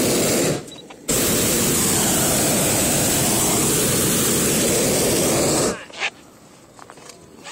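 A hot air balloon's propane burner fires in one long, loud, roaring blast lasting several seconds, cutting off abruptly into quieter open air with faint wind and distant sounds.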